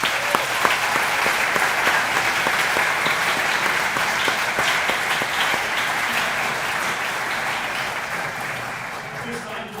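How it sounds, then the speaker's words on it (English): An audience applauds Hall of Fame inductees at a high school ceremony, with loud, dense clapping sustained for several seconds before slowly tapering off. "Please give our inductees a round of applause."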